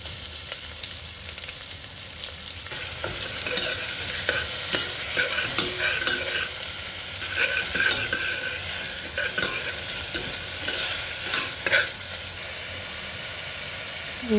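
Onion and tomato frying for sambar, a soft steady sizzle in the pan with intermittent stirring scrapes and taps, close by and fairly quiet.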